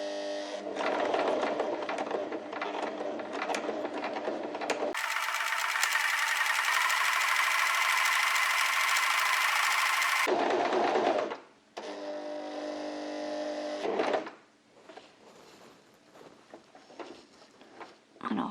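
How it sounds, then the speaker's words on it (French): A sewing machine runs under foot-pedal control as it sews a seam, with a fast, steady mechanical whir and a few stops and restarts close by. Someone speaks softly between the bursts. "avec la pédale, puisqu'on va coudre jusqu'au bout, je peux appuyer et avancer"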